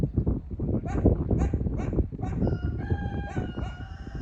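Farmyard scene with clucking chickens and a rooster crowing partway through, mixed with rustling and outdoor background noise.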